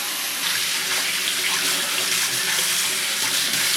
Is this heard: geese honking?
no